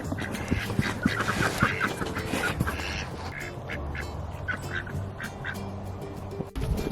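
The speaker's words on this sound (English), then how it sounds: "Come down to drop off the ducklings, and we have ducks out." Ducks quack loudly and close by, a dense, overlapping chorus of repeated quacks from several birds, continuing steadily throughout.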